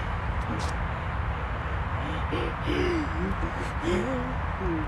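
Pigeons in a park give a series of soft, repeated coos in short rising and falling phrases over a constant low background rumble.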